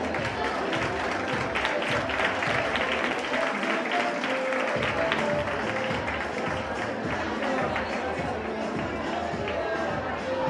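Audience applause at a children's carnival costume contest in Chillón, steady dense clapping and crowd noise filling the whole stretch, with voices mixed in throughout.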